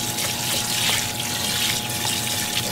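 Running tap water pours steadily over frozen green beans being rinsed in a kitchen sink, a continuous close splashing rush with no pauses.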